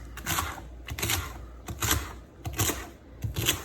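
Knife chopping cabbage and collard green leaves into strips on a board, with steady, closely spaced crisp cuts at moderate volume.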